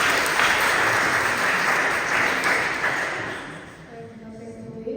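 Applause from a Protestant church congregation at a Sunday harvest and back-to-school service, welcoming a young child, as a steady, dense clatter of many hands that fades toward the end.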